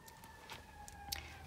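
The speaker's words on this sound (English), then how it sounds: "I'm sorry if you hear the sirens. I live near a fire station." Fire engine sirens from a nearby fire station sound in the distance, a faint steady wail under a quiet indoor room, with a few soft clicks and no one speaking.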